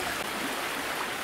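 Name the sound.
Ostrobert river flowing at Duclair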